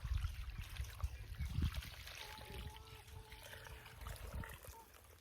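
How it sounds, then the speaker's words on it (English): Water trickling and splashing from a bucket onto freshly planted annuals beside a vegetable garden, a soft continuous pour with low thuds and rustle, outdoors with faint background noise. "And then I'm going to give them a water."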